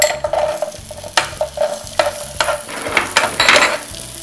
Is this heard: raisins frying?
yes